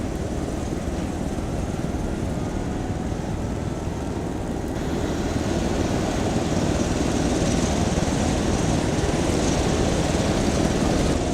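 Aircraft engines spooling up in a military flight simulation game, a loud, continuous roar that holds steady and swells slightly partway through, with no voices over it.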